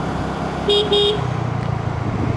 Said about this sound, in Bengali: এই মনে হয় আমি প্রথম হর্ন মারলাম।